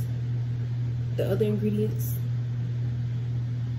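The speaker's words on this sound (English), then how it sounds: "Pop in the microwave about 2 minutes" A microwave oven runs with a steady low electrical hum throughout, with a brief spoken phrase over it.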